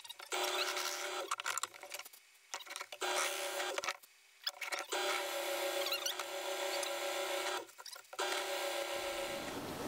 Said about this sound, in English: drill a hole down the middle with a Forstner bit